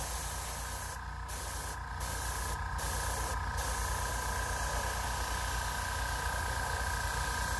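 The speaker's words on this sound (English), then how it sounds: "I'm about to go in with a little bit of Vachetta tan, and you want to do this like real light, like just mist it in some of the white parts." An airbrush mists Vachetta tan paint onto custom shoes, a steady close hissing spray running throughout over a low motor hum, with four short airy pulses in the first half.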